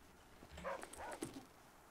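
Dog barking in the video game The Flame in the Flood, a few soft, quiet yips and woofs in a short burst at low volume.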